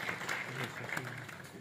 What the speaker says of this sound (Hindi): सारे लोग तालियों से उनका स्वागत कर रहे